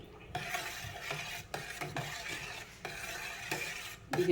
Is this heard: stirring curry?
yes